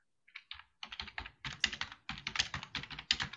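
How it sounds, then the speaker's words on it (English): Wild, rapid typing on a computer keyboard picked up by an open microphone during an online video-call conference, a fast irregular run of clicking keystrokes in bursts with no talk. "somebody is typing away very wildly"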